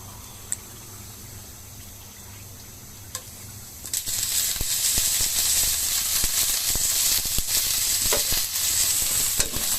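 Chopped garlic, ginger, bay leaf and onion frying in oil, quiet at first with a couple of light clicks, then a loud, bright sizzle bursts up as the ingredients hit the pan and continues with stirring scrapes.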